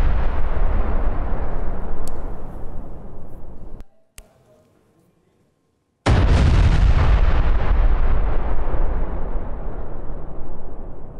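Explosions from Spike anti-tank missile strikes on military positions. A long, loud roaring blast fades into near silence, then a sharp second detonation erupts and rumbles heavily until the end.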